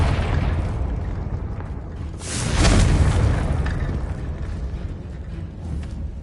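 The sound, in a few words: Confringo blasting curse explosion in a Harry Potter video game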